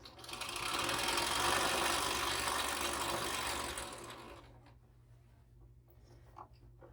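A standard sewing machine quilting through a large quilt runs in a loud, steady mechanical whir for about four seconds, then stops, leaving faint quiet handling noises.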